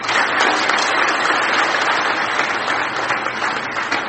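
Dense, steady applause from a large audience at a Hindi spiritual discourse on Shiva, continuous and loud throughout with no break.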